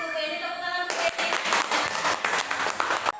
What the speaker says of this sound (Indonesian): Terima kasih untuk ini, tepuk tangan untuk ini.